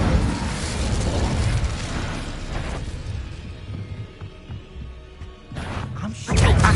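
A fire spell cast in the Hogwarts Legacy video game: a loud, dense roaring whoosh that surges at the start, fades through the middle, then flares again in a sharp burst near the end.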